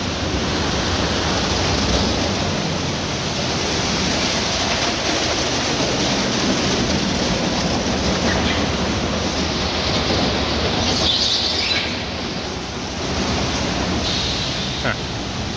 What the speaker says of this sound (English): I ran a few cars through the wash